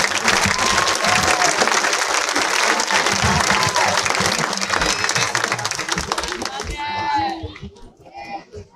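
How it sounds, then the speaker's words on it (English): Crowd at a school district graduation ceremony applauding loudly and densely, with scattered cheers and children's voices mixed in, before the clapping fades and a few voices carry on near the end. "A round of applause."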